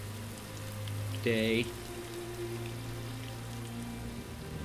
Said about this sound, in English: it's getting really rainy now